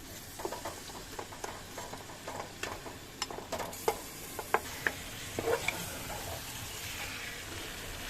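Mutton marinated with turmeric, mustard oil and onion sizzles in a pan with a steady crackle, punctuated by scattered sharper pops and light stirring clicks, close and moderately quiet, no voices.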